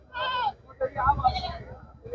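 A close goat bleat rings out at a livestock market, then trails into softer, lower bleating sounds.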